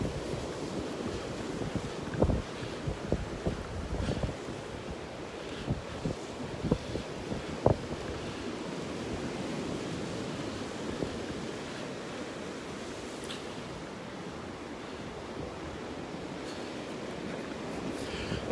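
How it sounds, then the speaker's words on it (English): Steady wind roars across the beach in North Naples, Florida, a broad continuous rush mixed with surf and microphone buffeting, with a few louder gusts early on and no voices. "I know it's windy at the beach."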